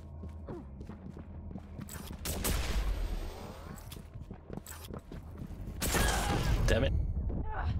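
Weapon fire in the arena shooter Quake Champions, played in Instagib mode: sharp blasts and a sweeping, rising whine burst out among game effects, loud in two bursts, with a player talking throughout.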